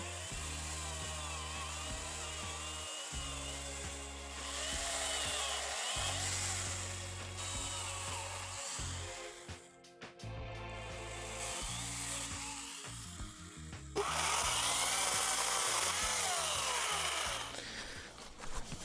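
Large battery-powered saw cutting through wood, a loud continuous whine that shifts pitch and strain in repeated passes, with brief pauses between cuts and a harsher, brighter stretch near the end.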